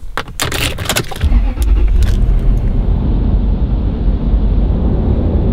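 A car drives through the pre-dawn dark toward Redwoods National Park. Brief jangling and rattling opens, then gives way to a steady, close, low road rumble with no talking.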